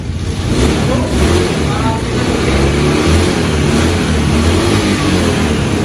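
A used motorcycle engine running steadily at idle after starting, a continuous low rumbling drone close by that holds an even level throughout with no talk over it.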